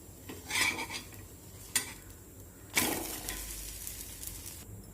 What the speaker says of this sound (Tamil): இப்போ வந்து தோசைக்கல் நல்லா காஞ்சோடனே தோசை ஊற்றிக்கலாம்